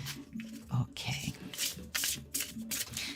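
A deck of tarot cards is shuffled by hand, giving quick bursts of riffling and rubbing in an uneven rhythm, close and quiet.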